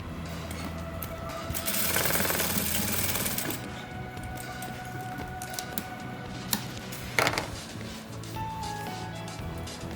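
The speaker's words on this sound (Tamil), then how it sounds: "எடுத்துகிட்டு இந்த நாடா மேலேயே அப்படியே நம்ம தையல் போட்டுடணும்." A sewing machine stitches a drawstring tape onto a skirt in short bursts of rapid mechanical chatter, with clicks and handling noises between runs, close and moderately loud.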